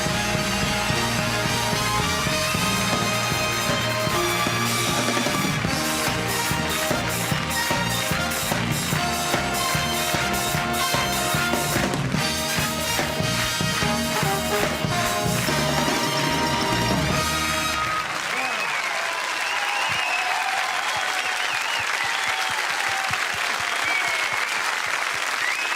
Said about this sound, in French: Messieurs, je vous demande de l'applaudir.